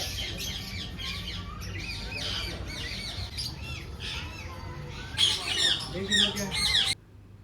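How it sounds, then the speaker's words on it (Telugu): Grey parrots squawk in a zoo aviary in Abu Dhabi, harsh repeated calls loudest near the end, with voices murmuring in the background. "గ్రే కలర్ ప్యారెట్స్ కూడా ఉన్నాయి."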